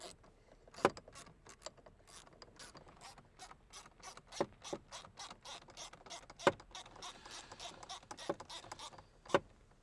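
A ratchet tightens the steering wheel bolts on a Nissan 370Z during a Z1 steering wheel install, producing a run of quick, fairly faint mechanical clicks broken by a few sharper metallic knocks.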